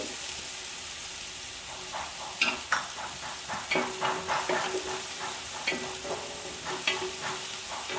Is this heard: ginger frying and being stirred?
yes